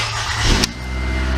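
A 2012 Scion tC engine cranks briefly with a loud whirring starter and then catches into a steady, close idle.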